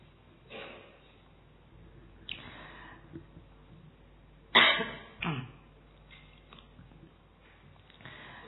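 A few coughs, one sharp and loud burst followed by a smaller one, with quieter breathy throat sounds before and after.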